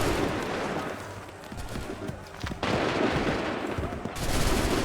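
Musket volleys fired on command in Assassin's Creed III: loud ragged bursts of gunfire crackling together, then a fresh sharp volley and another, amid battle noise.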